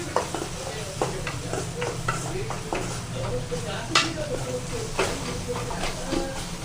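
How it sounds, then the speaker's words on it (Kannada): Masala spices, including garam masala, fry steadily in a pan on a gas stove for dal dhokli, with continuous close sizzling and repeated scraping clicks of a spoon stirring the pan. "ಇಷ್ಟೆಲ್ಲ ಮಸಾಲ ಹಾಕ್ಕೊಂಡು ಸ್ವಲ್ಪ ಫ್ರೈ ಮಾಡ್ಕೊರಿ"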